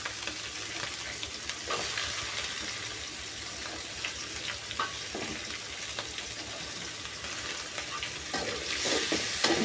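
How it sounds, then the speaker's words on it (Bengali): Prawns with chopped onion and green chilli stirred in a hot pan, giving a steady close sizzle of frying with scraping stir strokes throughout, no voices. "চিংড়ি মাছগুলো দিয়ে একটু নেড়ে, তারপর পেঁয়াজ কুচি, কাঁচামরিচ এগুলো দিয়ে একটু নেড়ে চেড়ে নেব।"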